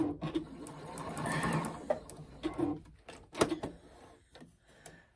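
A sewing machine back stitching a fabric chick pincushion, its needle rattling in quick bursts with brief pauses, close and clear, with a voice speaking intermittently over it.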